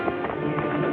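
Horses' hooves clopping steadily in a short burst as a mounted troop rides forward in a 1961 classic adventure film, heard alone with no talk.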